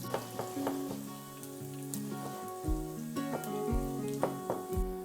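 Cumin, coriander seeds, crushed red chili and sliced garlic sizzle and crackle in hot oil, a steady close frying hiss with scattered pops and stirring clatter, no voices.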